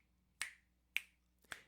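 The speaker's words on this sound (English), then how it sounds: "or you can snap the beat" Three crisp finger snaps keep a steady beat about half a second apart, close and clear against a quiet background.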